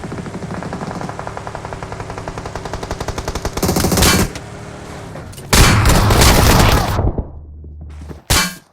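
Rapid bursts of video game gunfire, including shotgun blasts, crackle loudly and continuously, building to two heavy booming volleys near the end.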